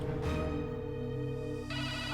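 Telephone ringtone sounding on an outgoing call, a quiet electronic ring that stops and then starts again near the end.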